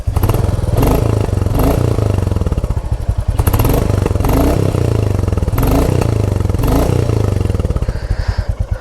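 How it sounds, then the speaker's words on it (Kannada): A 2023 Royal Enfield Classic 350 E20 in chrome red thumps away loudly up close, its single-cylinder engine pulsing in a steady rhythmic beat with a few stronger surges. "ಗಾಡಿ ಸೌಂಡ್ ಕೇಳು ಗುರು"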